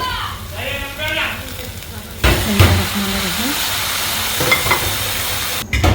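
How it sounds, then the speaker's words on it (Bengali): Water is poured into lentils frying in a pan on the stove, and a sudden loud sizzle and hiss swells up. It follows quieter frying and stirring, and a voice talks over it. "ডালটা ভাজা হয়ে গেছে। আমি এখন পানি দিয়ে দিব এখানে।"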